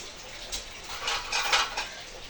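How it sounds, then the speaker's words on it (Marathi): Faint clattering of pots and dishes, a few light metallic clinks and knocks against a quiet background. "का गणेश भांडी वाजवतो"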